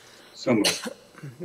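A single sneeze bursts out during a township council meeting, sharp and fairly close, set among brief spoken remarks from the council members.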